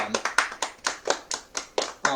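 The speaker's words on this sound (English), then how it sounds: "I think all of them deserve a nice little round of applause here" Hands clapping in slow, evenly spaced claps close to the mic at an end-of-year awards show for a wrestling fan club, about ten distinct claps in a steady rhythm with faint voices in the background.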